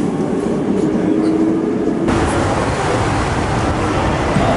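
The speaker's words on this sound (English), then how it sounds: "the easiest way to get out of the airport is the super handy train" Loud, steady rumble of an airport train in Tokyo, Japan, rolling along the rails from inside a carriage, with a constant low roar throughout.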